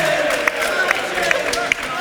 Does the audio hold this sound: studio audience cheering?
yes